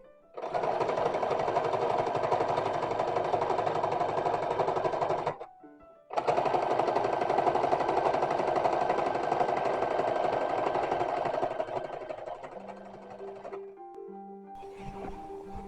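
A sewing machine stitches fabric with small stitches for a 19th-century infant petticoat, a rapid steady mechanical whir in two long runs split by a brief pause, then quieter clicks and handling sounds.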